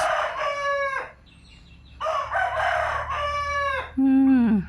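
A rooster crows loudly nearby, two long drawn-out crows separated by a brief pause, followed by a shorter, lower call.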